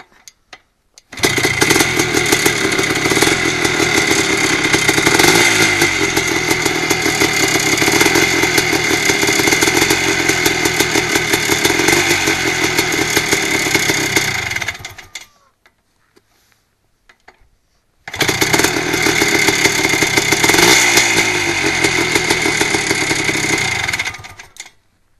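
A 1980s Husqvarna 250 CR two-stroke motorcycle engine with a Mikuni 38 carburettor kit starts and runs loud and close, cuts out briefly, then fires up again and revs on its own.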